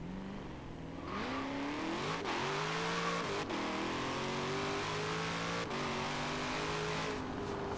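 A car engine in the racing game Forza Horizon 4 accelerates hard, revving up steadily through several gear changes at a loud, constant level with no one talking.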